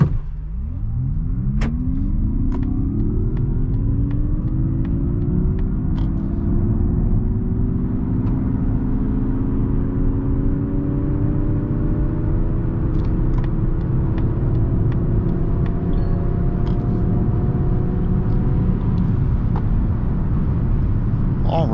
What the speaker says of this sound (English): at least we can see the acceleration time from 0 to 100 kilometers an hour. Let's go now.